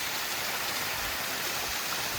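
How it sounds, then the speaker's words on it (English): A waterfall along a mountain trail in Glacier country, a steady broadband rush of falling water, close and even, with no voices. "we're gonna have lunch by this beautiful waterfall"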